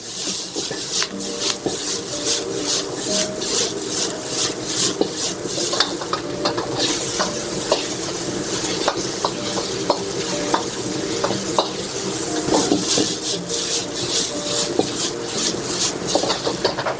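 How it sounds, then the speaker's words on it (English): Vegetables sauté in a pan for a pork rib dish, with a steady broadband sizzle under repeated sharp scraping and clacking stir strokes throughout, close and fairly loud, with no talking. "We want to saute them till they're about halfway done."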